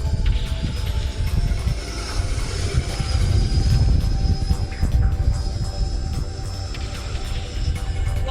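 A jet making a low pass: a loud, continuous roaring rumble that swells and holds across the whole stretch, with a faint high whine riding on top and no speech.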